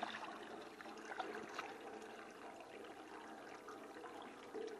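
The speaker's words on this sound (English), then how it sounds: "Nice clean water coming out of the ground from under my house, cleaning out that pan." Groundwater from a well under a house runs steadily into a small-scale maple syrup evaporator pan to rinse it out, giving a faint continuous splashing trickle with no voices.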